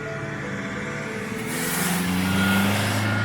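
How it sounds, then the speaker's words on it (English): A large tourist bus or truck idling and rumbling close by at a roadside stop near Loch Lubnaig, growing louder as it pulls in, with a hiss of air brakes; no voices. "There's a constant stream of tourist buses stopping here now."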